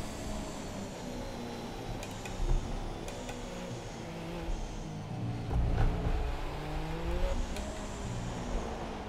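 A Haas Formula 1 car in the racing game F1 2017 drives into the pits, its engine a steady, moderately loud drone with a few small surges in pitch and no voices.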